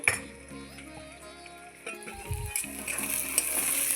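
Quiet stirring of a spinach and bori curry with potato and eggplant in a pan, a soft sizzle with light clinks of a spoon against metal, a louder scrape near the middle.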